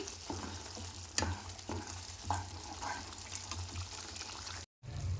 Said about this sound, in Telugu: ఇది మొత్తం దగ్గరికి వచ్చేలాగా ఫ్రై చేసుకోవాలండి మసాలా.